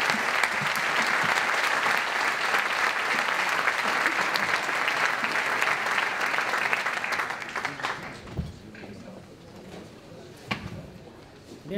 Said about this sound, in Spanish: Yo creo que se merece un aplauso a uno de mis compañeros de mesa